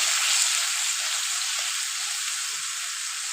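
Spice paste sizzles and fries steadily in a hot pan for a cauliflower and potato curry, a continuous bright crackling hiss with no talk.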